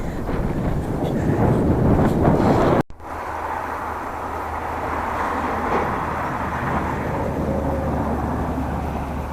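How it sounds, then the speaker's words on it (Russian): A steady rush of cold wind buffets the microphone in open high country in Sichuan, China, loud and gusty at first, then settling into a continuous windy roar. "Ветер тут задувает холодный."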